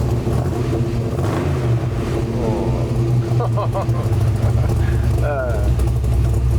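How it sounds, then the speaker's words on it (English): A 1970 C-10 restomod truck with an LS engine rumbles with a low, steady, loud engine note that runs throughout while people talk close by. "We gotta like tap on the gas a little, yeah? Give it a little blips, man."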